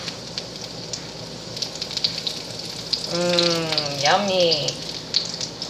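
Green tomatoes fry in a pan with a steady crackling sizzle throughout, while a person speaks briefly over it.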